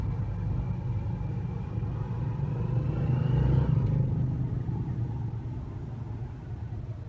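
Heavy road traffic heard from inside a vehicle stuck at a diversion, a steady low engine rumble and road drone that swells briefly midway, no voices.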